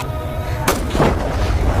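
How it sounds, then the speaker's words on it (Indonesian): A single sharp sniper rifle shot cracks in a desert film scene, a loud sudden report with a rumbling echo fading under a steady background hum. "Ledakan tembakan tersebut rupanya didengar oleh para imigran."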